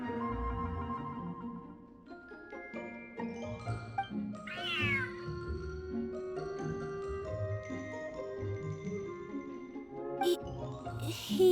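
Cats in the Genshin Impact video game meow repeatedly over a gentle musical backdrop. Several distinct drawn-out meows rise and fall, one especially clear near the middle, and a brighter cry comes toward the end.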